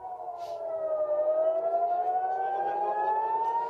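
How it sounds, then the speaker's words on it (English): Air raid sirens wail across an Israeli city during a missile attack, one steady rising and falling tone carrying through open air, loud and sustained with no voices. "air raid sirens are sounding"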